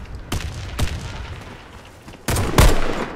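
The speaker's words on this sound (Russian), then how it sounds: "Граната пошла!" Gunfire in the online shooter Warface, with a few sharp shots spaced apart and then a heavier, louder grenade blast near the end, punchy and close against a low game ambience.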